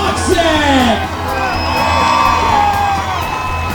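A large crowd at a monster truck event in Gilbert, Pennsylvania whoops and cheers loudly, with excited shouts rising and falling in a sustained roar.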